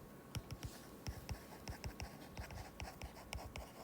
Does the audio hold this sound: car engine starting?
no